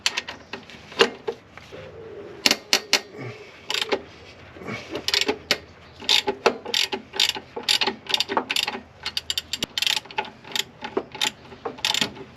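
A ratchet wrench loosens the alternator's lower holder bolt in a car engine bay, giving a long series of crisp, close clicking bursts in uneven rhythm with short pauses between strokes.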